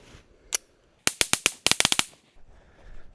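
A .22 Long Rifle firing repeatedly into a tree: one lone shot, then a rapid string of about a dozen sharp cracks in quick succession, loud and close, with quiet gaps around them.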